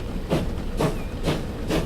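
An oak-panelled steam engine in Transport Fever pulls away in the 1850s, with four evenly spaced rhythmic chuffs of steam over a low rumbling rail background.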